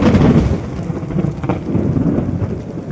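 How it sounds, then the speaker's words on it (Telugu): Thunder rolls in deep, rumbling swells during a heavy outdoor rainstorm in India, with a dense hiss of rain throughout and no voices. "పిడుగుల సౌండ్ అనేది మీకు కనపడుతుంది"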